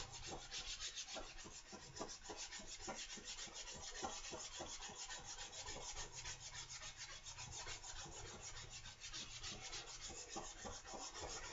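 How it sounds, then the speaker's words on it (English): Steady back-and-forth rasping of sandpaper rubbed by hand against a metal blade, sanding out scratches, continuous and rhythmic, close and fairly quiet. "is just sanding those 6-degree scratches out of this blade."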